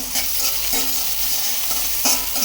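Gourd curry cooks on a home stove with a loud, continuous sizzle and bubbling, while a spoon stirs and scrapes against the pot in repeated strokes. No voices are heard.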